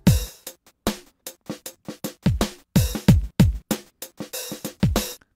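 Music played back in Logic Pro with a gradual tempo curve, heard as a sharp percussive beat pattern of strong low thumps and bright hits in uneven rhythm, loud and alone without talk.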